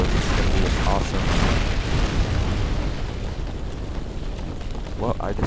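A huge explosion from the M2 hack of the Rival Rebels mod in Minecraft roars as a dense, sustained rumbling blast, loud and close, slowly easing over several seconds.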